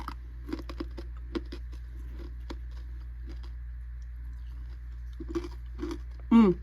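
Crunchy barbecue corn nuts from a Z-Ration zombie MRE being chewed, with a series of short crisp crunches up close, spaced unevenly, some quieter stretches between bites and a louder burst at the end.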